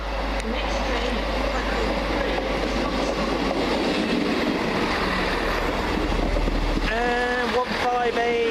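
A Class 158 diesel train passing through Smethwick Galton Bridge station, giving a loud, sustained rumble with a steady low drone and rail clatter, followed by a rising whine near the end.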